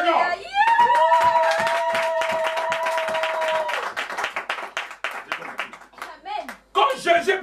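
A church congregation claps and cheers during a French-language worship service, with sustained sung or shouted voices over rhythmic clapping, then broken applause bursts toward the end, loud and close.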